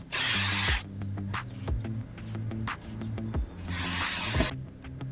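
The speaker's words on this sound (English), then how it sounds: "you first drill some pilot holes and then put the screws in" A power drill boring pilot holes into a wooden gate to mount a bracket, with two loud bursts of whirring separated by a stretch of lighter tapping and handling noise, close up.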